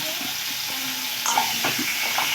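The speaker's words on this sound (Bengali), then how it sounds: "এবারে খুব ভালো করে ঢাকা চাপা দিয়ে আমি ভেজে নেব।" Spiced cauliflower, potato and chicken fry in a pan with a soft continuous sizzle, and stirring adds a few scraping clicks partway through.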